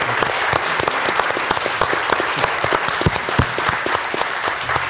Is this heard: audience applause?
yes